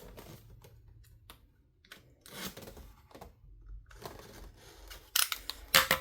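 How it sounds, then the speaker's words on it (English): Scissors snipping and ripping open the packaging of a 12-inch Jurassic World Rebirth toy figure, with close, irregular clicks, cuts and crinkles that grow louder near the end. "cut these open"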